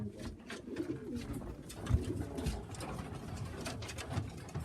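Sheffield Tippler pigeons coo steadily in a loft, a low throaty burbling from several birds overlapping at close range, with a faint mechanical hum underneath.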